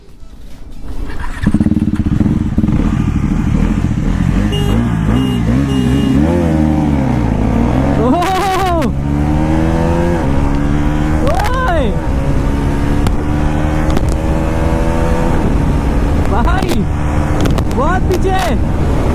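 A Bajaj NS400Z and a KTM Duke 390 motorcycle racing, loud close engine roar throughout with repeated rising revs and gear changes, and voices heard over the engines.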